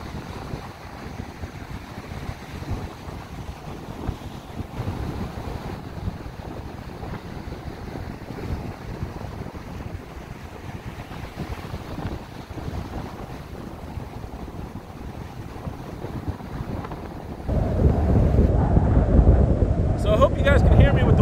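Strong wind gusting across the microphone at a coastal inlet, a steady broadband roar that swells louder near the end, with a voice faintly present underneath.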